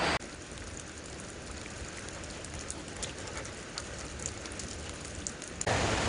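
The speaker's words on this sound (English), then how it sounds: "It's raining." Steady rain falling outdoors on a Michigan hay farm, a dense even patter of drops continuing throughout with scattered sharper taps, close and fairly quiet.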